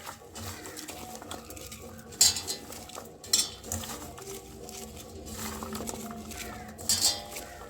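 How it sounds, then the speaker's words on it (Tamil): Pakoda batter seasoned with salt being mixed by hand in a bowl, giving soft, irregular rustling with a few sharp clinks and knocks against the bowl. "போட்டு இதை நல்லா கையில் பிசைஞ்சிக்கலாம்"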